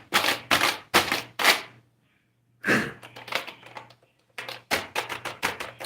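Phone keyboard with a typewriter-style key sound being typed on, giving close, clacky taps in quick bursts separated by short pauses.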